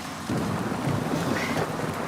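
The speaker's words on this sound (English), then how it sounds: "please don't worry about the rain, I'm sure it will stop soon." A steady, loud rush of heavy rain with a low rumble of thunder underneath, dense and continuous with no voices.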